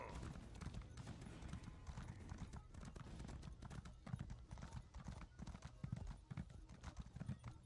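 Horse hooves clip-clopping in the fantasy game Elder Scrolls Online, a steady rhythmic trot close by that fills the whole stretch, with faint talk in the background.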